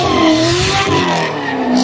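A car engine revs hard toward redline at a nighttime Chicago car meet in the cold, a loud, sustained rising whine with tire noise mixed in, close by.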